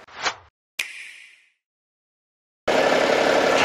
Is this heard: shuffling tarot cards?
no